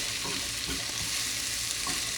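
Onions frying in a pan for a veggie omelet, a steady bright sizzle crackling continuously at close range with faint stirring scrapes, no talking.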